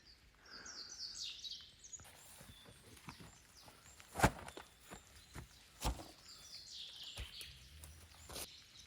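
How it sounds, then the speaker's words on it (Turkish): Birds chirp and twitter faintly in trees in the distance at a snowy highland campsite, with occasional rustling and footstep-like scuffs nearby. "Ağaçlarda zaten kuş seslerine falan uyandım. Hala da devam ediyor."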